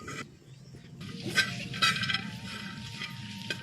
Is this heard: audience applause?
no